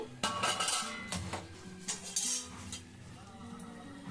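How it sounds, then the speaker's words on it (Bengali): A metal lid is lifted off a cooking pot of milk shukto with boiled eggplant, giving a run of close, bright clinks and clatters of metal cookware over a low kitchen background. "ঢাকাটা খুলে এখন দেখে নেব।"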